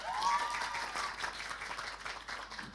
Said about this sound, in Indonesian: Tepuk tangan untuk Arpega.